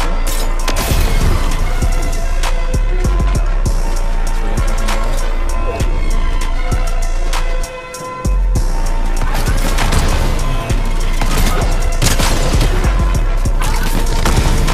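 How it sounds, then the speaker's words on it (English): A Frenzy auto shotgun in a video game fires a rapid string of loud, close booms amid chaotic crashes and game noise, with a brief pause near the middle before the shots resume. "this frenzy auto shotgun shot way slower than I remember"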